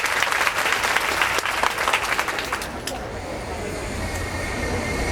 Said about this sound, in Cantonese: 畢竟係決賽，我哋應該俾啲掌聲支持下各位嘅辯員。